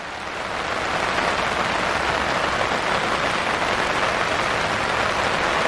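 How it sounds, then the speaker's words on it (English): Steady rain falling on a surface, a dense even hiss that swells in over the first second and then holds constant and fairly loud with no other sounds. "Oh, rainy day."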